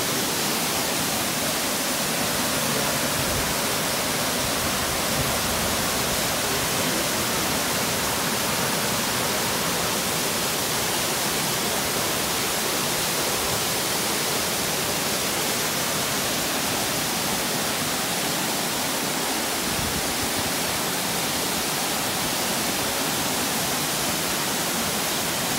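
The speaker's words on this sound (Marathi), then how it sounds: "आता आपण तो वॉटरफॉल खूप जवळून बघतोय" Rainbow Falls waterfall in Kerikeri, New Zealand, heard up close as a steady, dense roar of falling water that continues unbroken with no voices.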